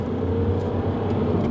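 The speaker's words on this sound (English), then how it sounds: "There you go, a little rev match for me." A Mini Cooper diesel engine hums steadily while driving, with a quick rev match during a downshift rising briefly under the continuous road and engine drone, with no voices.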